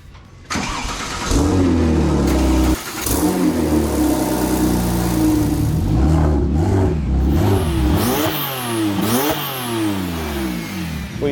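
Porsche 996 Turbo with a custom stainless steel exhaust, loud and close, starting up and revving hard, its engine note rising and falling in repeated sweeps through the final seconds with no talking.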